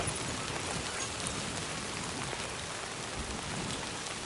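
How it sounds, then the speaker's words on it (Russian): Steady, dense rain pours down in the video game Death Stranding 2, a constant full-band hiss with no pauses or voices. "Дождь все разрушает."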